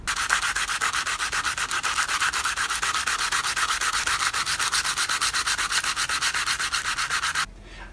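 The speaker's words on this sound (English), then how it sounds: "it'll make it nice and smooth when you're filing." A wooden nunchuck stick is filed along the grain in fast, even, rasping strokes, loud and close, a steady rhythm that stops abruptly near the end.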